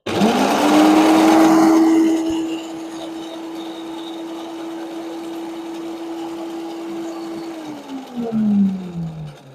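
A Parkside PWH 2800 B2 garden branch shredder starts with a loud burst, then settles into a steady, high electric motor whine before spinning down near the end, heard alone at close range.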